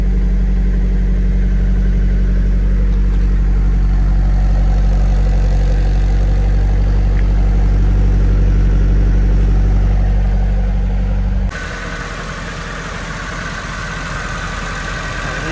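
A 1999 Nissan Silvia S15 Spec-R idles steadily with a deep, even low rumble, close and continuous, shifting to a thinner, slightly different tone for the last few seconds.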